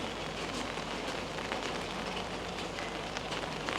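Rain pattering and dripping onto leaves and purple flowers outdoors in Rishikesh during the monsoon, a dense steady wash of drops with no voices.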